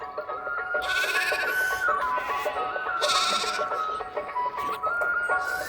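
A large flock of sheep bleating over one another in the morning at Jadhavwadi village, Pune district, with overlapping, wavering cries, some close and loud.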